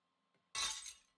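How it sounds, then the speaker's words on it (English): Glass breaks in the Fate/Stay Night visual novel, a single sharp shatter with bright tinkling fragments that quickly fades, heard alone against silence. "the glass breaks rather easily"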